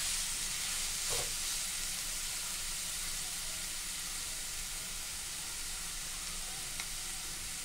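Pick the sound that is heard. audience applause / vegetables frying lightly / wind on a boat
vegetables frying lightly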